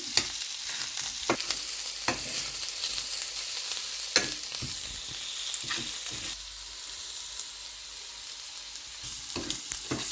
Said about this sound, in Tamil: மிளகாயையும் போட்டு கொஞ்சம் மிளகாயும் வதங்குற அளவுக்கு வதக்குவோம்